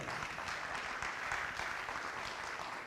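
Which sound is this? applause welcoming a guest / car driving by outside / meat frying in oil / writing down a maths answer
applause welcoming a guest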